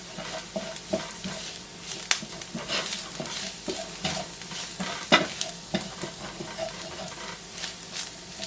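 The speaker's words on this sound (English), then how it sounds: "Just going to add some flour and cook that out for a minute." Flour cooking and being stirred in a pan of chicken lasagna filling: continuous close frying sizzle with frequent scraping stir strokes and a couple of sharp utensil knocks against the pan.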